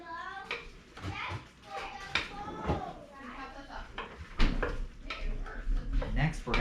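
A spoon stirs goulash with beef in a pot, scraping and clinking against the metal in short bursts while a person talks over it.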